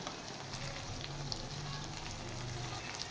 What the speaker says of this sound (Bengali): এখন টমেটোটা একটু ফ্রাই করে নেব